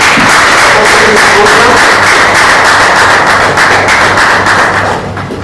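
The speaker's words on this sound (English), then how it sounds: "Please, can we clap for Bansom?" An audience at a World FM Day commemorative event claps loudly and steadily for several seconds, a dense close patter of hands that tapers slightly at the end.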